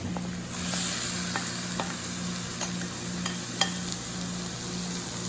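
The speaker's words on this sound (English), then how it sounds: "next step is to put the pork and mushrooms back in" Pork and mushrooms are returned to a hot pan to stir-fry with Asian vegetables, making a steady moderate sizzle with a few light utensil taps under a constant low electrical hum.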